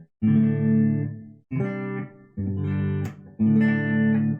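An electric guitar through a Boss Katana Artist MkII amp set to vintage cab resonance strums four ringing chords, each sustained briefly with short gaps between them, full and resonant.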